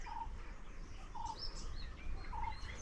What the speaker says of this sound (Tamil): குருவி